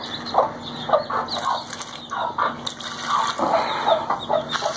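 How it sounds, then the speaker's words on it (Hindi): Chicks and adult chickens cluck and peep repeatedly at close range in a village coop at watering time, a busy stream of short calls over a steady high background trill. "चूजे हैं"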